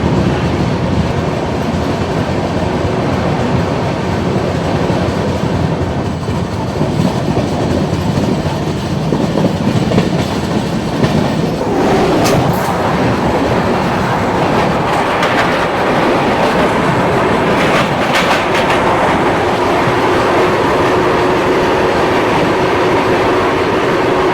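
The Sarvodaya Express rolls steadily along the rails, a loud continuous rumble and rattle heard from inside a near-empty carriage, with brief metallic squeals partway through.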